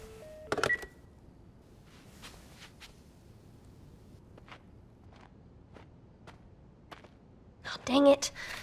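In the video game The Last of Us, someone presses buttons on a dead telephone, giving a series of isolated clicks and taps spread over several seconds, with louder bursts of handling noise near the start and end.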